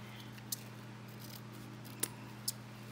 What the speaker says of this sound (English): I have to get my good scissors and cut this a little bit better